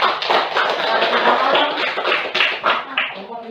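A classroom group claps for a presenting student group, uneven hand claps mixed with chatter and a little laughter, fairly close and irregular in rhythm.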